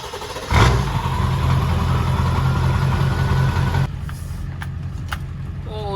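Engine of a Honda ATC three-wheeler running loud and close in a yard, a sharp rise then a steady rumbling drone that drops off suddenly near the end, leaving quieter background.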